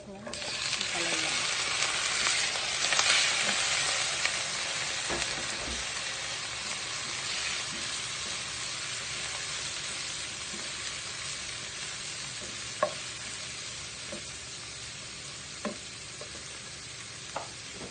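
Sliced bitter gourd (ampalaya) and onion sizzle steadily in a pan, with a loud hiss at first that eases over time and a few sharp clinks of a utensil stirring.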